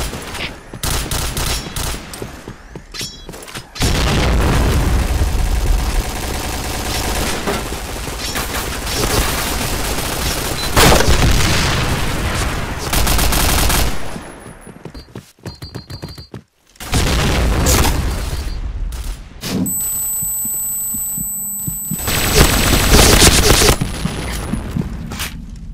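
Grenade explosions and rapid gunfire in the Point Blank shooter game on the Downtown map, loud bursts of automatic fire and booms in dense clusters with brief quiet gaps, and a short shouted game voice line.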